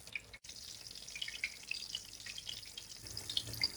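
Besan naan cooking in a pan over lowered heat after being flipped, giving a steady, faint sizzle and crackle that runs without a break and with no talking.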